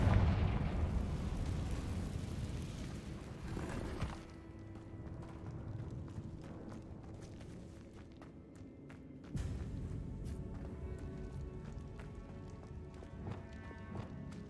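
A Confringo spell explosion from Hogwarts Legacy bursts loudly in the opening seconds, then settles into a rumbling game soundscape punctuated by a second sharp blast partway through.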